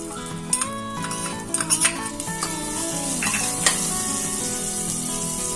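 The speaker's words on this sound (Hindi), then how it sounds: "अब हम इस गर्म तेल में डालेंगे जीरा" Cumin seeds and chopped green chillies hit hot oil in a pan for restaurant-style samosa masala, crackling into a loud, bright sizzle with metal spoon clinks and stirring scrapes near the start, then settling into a steady fry.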